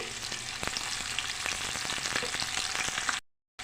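Chopped onions, curry leaves and green chillies frying in oil make a dense, close crackling sizzle with quick popping spatters, ending abruptly in silence.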